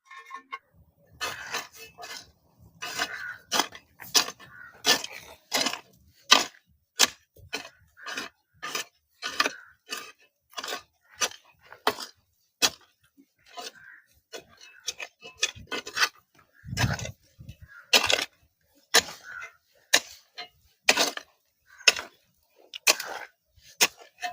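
Potting soil mixed with neem cake, bone meal and super meal for planting long pepper, heard as a steady run of close, sharp scraping and crunching strokes in quick rhythm, with no talking.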